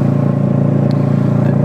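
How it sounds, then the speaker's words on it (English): A motorcycle fitted with a DanMoto exhaust idles close by, a loud, steady, throbbing rumble with an even pulse and no voices. "So the exhaust is a DanMoto."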